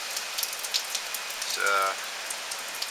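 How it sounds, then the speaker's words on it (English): Steady soft patter of light drizzle on a surface during Hurricane Irma in Stuart, Florida, 2017, constant and gentle throughout, with a brief faint tonal sound partway through. "Basically all we got right now is just a little bit of drizzle rain going on."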